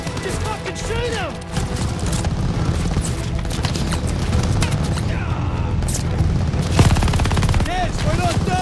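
Call of Duty battle at El Alamein in WWII: dense, sustained gunfire with machine-gun bursts and booms fills the whole stretch, while shouted voices cut in over the din.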